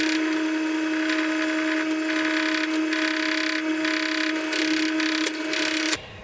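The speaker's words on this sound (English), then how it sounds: "We mark the position and drill with no fear." Power drill boring through a metal angle from the inside, a steady loud high-pitched motor whine with a grinding edge held without a break for about six seconds before it stops abruptly.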